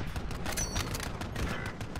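Rapid bursts of gunfire crackle through a Warzone match, dense overlapping shots at moderate loudness forming a steady barrage.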